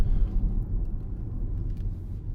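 A 2015 Audi Q5 2.0 TDI quattro diesel engine hums in a low, steady rumble, heard from inside the moving vehicle, fairly quiet with no talking.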